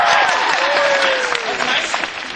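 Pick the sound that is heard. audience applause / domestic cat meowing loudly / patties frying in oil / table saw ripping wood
audience applause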